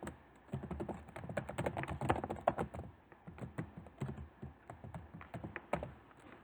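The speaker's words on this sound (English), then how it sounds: "I'm going to start by typing a title." Rapid clicking of keys on a computer keyboard, an uneven run of taps with brief pauses, close and clear.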